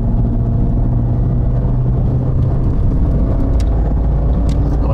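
Inside an Abarth 500 carrying two people, a steady, loud engine and road rumble fills the cabin without a break.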